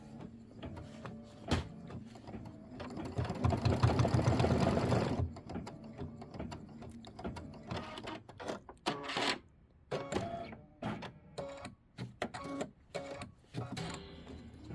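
A multi-needle embroidery machine stitches a Kimberbell Thanksgiving pillow design, with a steady mechanical whirr for a couple of seconds, then a run of rapid, close clicking and tapping bursts with short pauses, and no talking.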